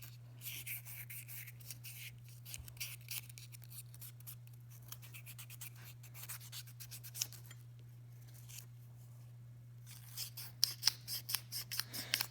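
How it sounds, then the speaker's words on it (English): A hand file rasping on a metal ring in rapid, repeated strokes over a steady low hum, with a denser, louder run of strokes near the end and no speech. "I'll spend a lot of time filing or sanding"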